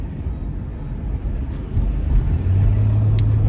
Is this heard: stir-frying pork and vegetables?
no